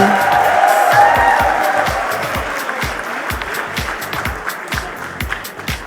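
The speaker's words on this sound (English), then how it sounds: "let the cheering continue, ladies and gentlemen" An audience at the FICCI Frames 2022 talent launch event cheers loudly, with a broad crowd roar and steady rhythmic clapping that gradually fades.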